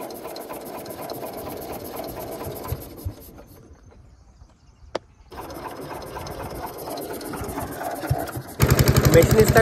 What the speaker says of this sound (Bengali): মেশিন স্টার্ট উঠে গেছে